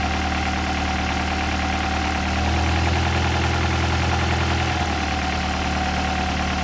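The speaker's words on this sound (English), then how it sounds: "Oh, that brought the idle down a hell of a lot." Honda Prelude engine idling close up, a steady mechanical drone with a faint ticking texture, its low hum deepening and strengthening for a couple of seconds midway before settling back.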